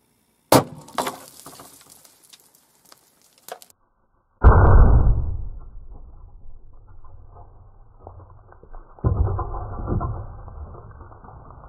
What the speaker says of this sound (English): why don't we go ahead and shoot it with the 44 Magnum and see what that does